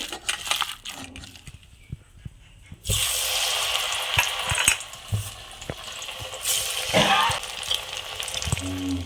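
Kulekhara leaf pakoras frying in hot oil, a steady broadband sizzle that swells loudly after a quiet start, broken by a few clinks and knocks from handling; no talking.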